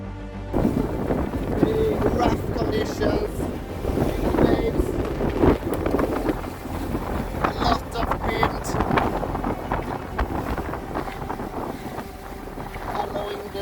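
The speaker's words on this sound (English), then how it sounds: "So after about 30 minutes of sailing, I could no longer see Johnny." A sailboat under way during a solo midsummer sailing race, with steady rushing wind buffeting the microphone and water noise around the hull, continuous and fairly loud throughout.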